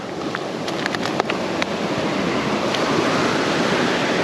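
Ocean surf breaking steadily on a fishing shore, a continuous loud wash of waves with wind noise over the microphone and a few faint clicks, no voices.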